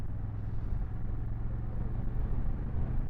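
A Honda CRF1100 Africa Twin Adventure Sports DCT motorcycle cruises in third gear, its engine a steady, loud low rumble mixed with wind roar, continuous and unbroken throughout.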